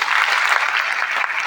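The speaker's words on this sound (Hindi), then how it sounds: "उनके लिए भी चाहता हूं ताली बजाएं" An audience at a foundation program in Jabalpur applauds, a dense, steady burst of clapping from a crowd heard alone and at close range.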